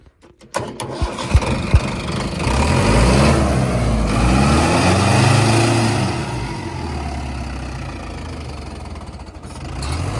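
A Mahindra Arjun 555 tractor, modified to about 75 horsepower, cranks briefly and catches. The engine then runs loud and close, settling into a steady, rough diesel idle that eases off slightly toward the end.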